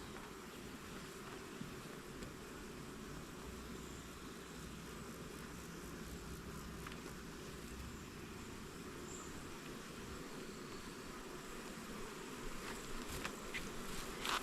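Honey bees swarm around their hives, a constant dense buzzing drone of many insects close by, steady and unbroken for the whole stretch with occasional single bees zipping nearer.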